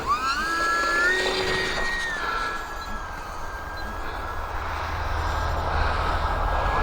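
A UMX Timber X remote-controlled model airplane flying in high wind, its motor whine rising and falling with pitch changes over a steady rush of wind noise, fairly near and continuous throughout.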